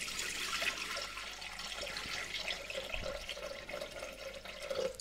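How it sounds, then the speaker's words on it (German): Water poured into a Thermomix mixing bowl makes a soft, continuous splashing trickle for a few seconds, fairly close and moderately quiet. "Dann kommen 500 Gramm Wasser in den Varoma, in den Mixtopf"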